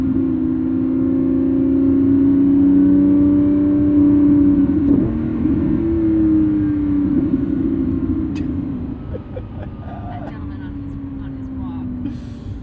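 A Lamborghini Revuelto's 1,001 hp V12 fills the cabin with a loud, steady, droning engine tone that rises slightly, dips and then eases off toward the end.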